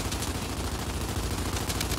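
Sustained automatic gunfire in the multiplayer game Gears 5, a dense, steady stream of rapid shots at moderate volume with no break, heard alone without talk.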